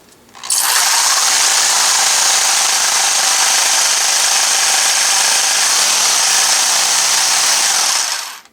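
A homemade paint mixer, a power tool with a small model paint bottle clamped in, runs in a steady, loud, close whirring buzz for about eight seconds, starting and stopping abruptly with no talking.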